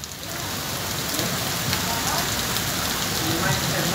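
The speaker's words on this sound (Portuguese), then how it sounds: "chuva em Tenente Laurentino Cruz, chuva forte." Heavy rain pours down steadily in Tenente Laurentino Cruz in the Seridó region of Rio Grande do Norte, a dense, loud, unbroken hiss of rain on surfaces.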